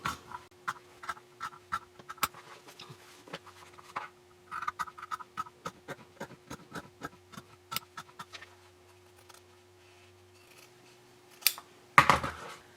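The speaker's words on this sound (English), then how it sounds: "Mine is a little dull right now, so I'm just using my scissors." Scissors cutting through denim from old jeans to make a tote bag panel: a steady run of crisp, close snips and clicks, with a louder cluster of cuts near the end. No one speaks.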